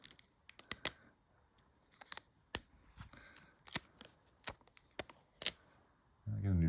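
Scotch tape pressed onto and peeled off a camera lens, heard as a scattered series of sharp, close crackling snaps and peeling ticks separated by quiet gaps, ending in a brief burst of low rumble.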